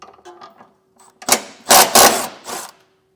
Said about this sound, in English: There's two 17mm bolts holding it up. We'll get those popped out.